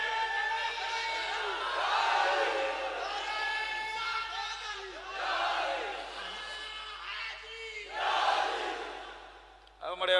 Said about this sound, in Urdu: نعرے حیدری تو اٹھے ہیں